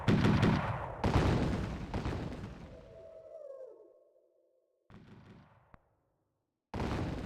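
Video game gunfire gives several loud, sharp bursts with decaying echoes, broken by a falling whistle-like tone, a silent gap, and then more shots.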